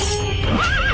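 A horse whinnies loudly and close by, its rising, wavering call standing out over a dense, noisy background.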